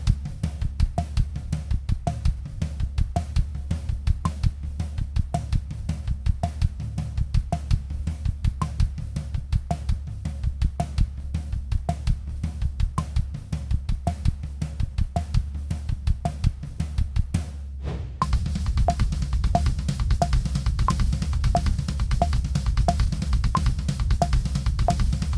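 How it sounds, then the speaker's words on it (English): A drum kit plays a paradiddle-diddle as sixteenth-note triplets with the kick drum substituted into the sticking, a fast, even, continuous pattern with steady accents that runs for about twenty-five seconds and brightens partway through, with no talking. "So then if we take the paradiddle diddle and play it again as 16th note triplets, but have that rudiment split in there, it would sound like this."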